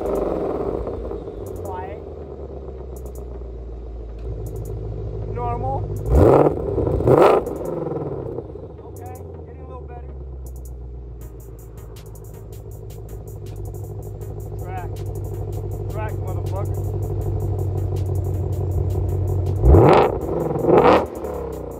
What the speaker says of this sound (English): I'm gonna give you guys a rev